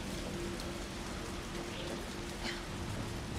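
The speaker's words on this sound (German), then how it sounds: "Draußen regnet's." Steady rain pattering down, a dense even hiss of drops with no voices, heard from indoors at moderate volume.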